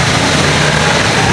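A motor engine running steadily at a car wash with a Ripper carwash machine, a loud, constant broadband roar close by without breaks.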